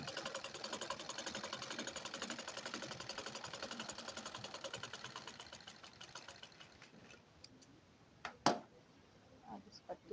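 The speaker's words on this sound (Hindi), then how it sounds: "इस पर भी 1 सूत की सिलाई" A sewing machine stitches a border strip onto a blouse, a rapid even mechanical rattle running steadily for about seven seconds, then slowing to a stop, followed by a sharp clack and a few faint handling noises.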